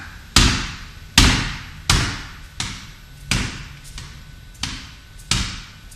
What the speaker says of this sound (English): Here, you'll hear a tap, a tap.